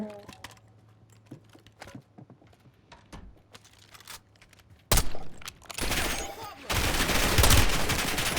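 Gunfire in a video game sounds in rapid bursts, loud and sharp, with keyboard tapping heard first before the shooting swells into dense sustained volleys.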